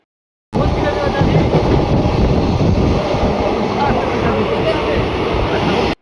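The Sealdah–Lalgola passenger train rumbles steadily along the rails at night near Naihati Junction, a loud, continuous close-up roar with a faint rhythmic clatter throughout.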